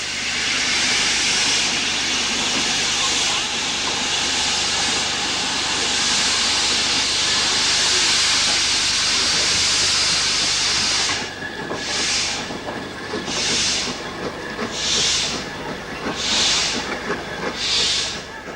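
Stanier 2-8-0 freight steam locomotives at the Kettering motive power depot, giving a loud, sustained steam hiss that breaks into a run of rhythmic exhaust chuffs.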